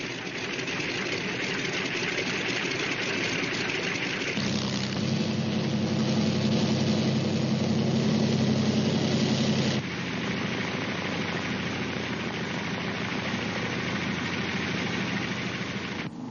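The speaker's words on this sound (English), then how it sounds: "other C-47s move into position for their takeoff at the head of the runway" Several C-47 transport aircraft idle at the head of a runway before takeoff, a steady droning engine rumble that swells louder midway with a heavier low throb, then eases back to a continuous hum.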